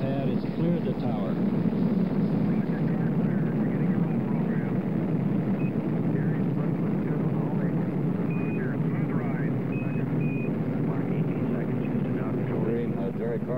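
Skylab 4 rocket engines at liftoff give a steady, low, heavy roar throughout, muffled as if from a broadcast, with a voice talking over it.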